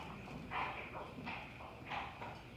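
A riding mare walks at an even pace, her hooves clip-clopping in a steady rhythm of about three close, moderately loud footfalls with no talking.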